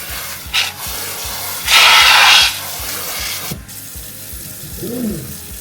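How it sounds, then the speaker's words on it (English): Water sprayed from a kitchen sink faucet onto seed starting mix, a brief bright hiss burst of about a second, with softer rubbing and handling noises before and after. "Since I'm at my sink, I can just spray it down."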